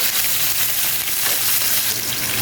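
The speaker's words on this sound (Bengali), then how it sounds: "এই যে একটা বড় সাইজের পেঁয়াজ কুচি দিয়ে দিলাম, দিয়ে পেঁয়াজটাকে একটু ব্রাউন করে ভেজে নিব" Chopped onion fries in oil in a pan, browning with a loud, steady, dense sizzle that runs unbroken and up close, with no voices.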